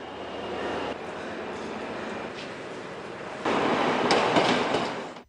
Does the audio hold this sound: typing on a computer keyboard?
no